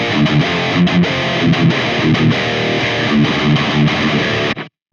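Distorted electric guitar lead tone through an ENGL Savage 120 amp simulation plugin, loud and sustained with melodic runs over dense saturated harmonics, played alone before cutting off abruptly near the end.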